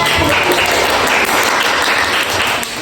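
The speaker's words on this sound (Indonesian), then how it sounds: "Oke, tepuk tangan" University class audience in a counseling course applauds on cue; loud, close, dense clapping runs steadily throughout the short stretch.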